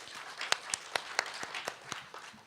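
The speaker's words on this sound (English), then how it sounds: "That was really a golf clap." Sparse, polite golf clap from a small audience at a panel discussion: a handful of separate, fairly quiet hand claps at an irregular rhythm, fading out.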